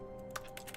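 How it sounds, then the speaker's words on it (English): Computer keyboard keys tapped during a game stream, a few quick light clicks picked up faintly by the microphone in a quiet room. "every time I click, every time I use my mouse, I can hear my keyboard typing"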